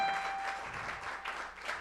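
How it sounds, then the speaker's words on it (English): Church congregation applauding during a Sunday morning celebration service, a steady, moderately loud wash of many hands clapping together in a fairly reverberant room, sustained with no voices. "can we do a quick round of applause for Sarah heading that up and everybody."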